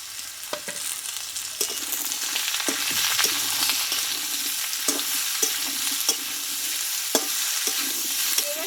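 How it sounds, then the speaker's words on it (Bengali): Mixed vegetables with a large tomato, slit green chillies and chopped ginger sauté in a pan for a vegetarian sabji. A steady, bright sizzle runs throughout, with repeated soft scraping strokes from stirring and no voices. "সবগুলো একসঙ্গে আরও দুই থেকে তিন মিনিট মতো খুব অল্প আছে এই সবজিটা কষিয়ে নিতে হবে"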